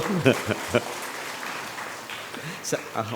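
Applause from an audience at a public talk, a soft continuous patter of many hands under and between bits of a man's speech.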